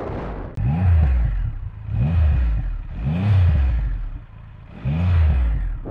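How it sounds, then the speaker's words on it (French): A Triumph Rocket 3 motorcycle's exhaust revs up close in four strong surges, each climbing and falling back to a low rumble before the next, with no talking. "au niveau de l'échappement, voilà, je vous fais écouter le bruit"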